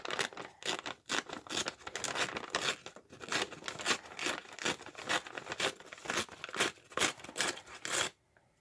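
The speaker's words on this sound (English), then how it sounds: "I'm ripping here. I'm going to rip this edge." Paper torn by hand along its straight edges while making a staggered bag journal, heard as close, repeated ripping bursts in quick irregular strokes that stop abruptly near the end.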